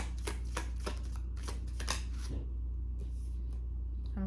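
Tarot cards shuffled and riffled by hand, a run of crisp papery flicks and slaps close up, busy at first and then thinning out into a few scattered taps, over a steady low background hum.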